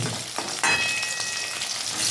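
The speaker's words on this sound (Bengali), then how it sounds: "মাছটা এইভাবে ভেজে নিলাম বেশি কড়া করলাম না" Snakehead fish fries in a pan for a sour fish curry, crackling with a steady, close sizzle broken by a few brief stirring scrapes, with no voices.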